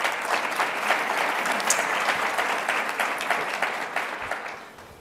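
An audience applauds steadily to welcome speakers at an education policy event, a full, even clatter of many hands that holds for several seconds and then begins to fade.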